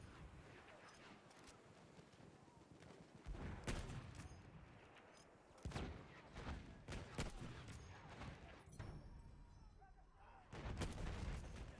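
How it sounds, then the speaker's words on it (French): Gunfire in the video game Battlefield 1, with repeated sharp shots and bursts across a noisy, windy battlefield backdrop. Explosive cracks come at irregular intervals, some loud and others distant. "J'ai tiré 5 balles, 5 fois ça passe à côté"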